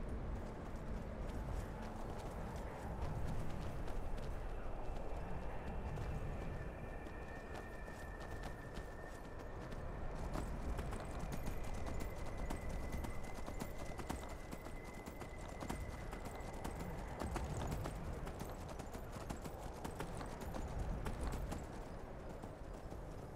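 A horse in the game Skyrim galloping, with steady rhythmic hoofbeats running continuously at moderate loudness over an ambient game soundscape, with a faint tonal hum passing through.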